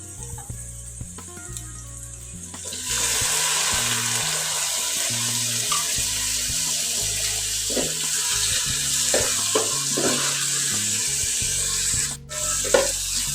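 Onion sautéing in a pan with chopped tomatoes and green chillies added, for tomato rice: a steady loud sizzle starts after a few seconds with occasional stirring scrapes, no talking, over quiet background music.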